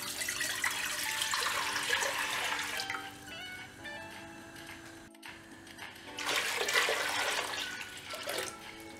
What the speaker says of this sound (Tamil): இப்போது இந்த பாத்திரத்தில் அரை குண்டான் அளவுக்கு நான் தண்ணி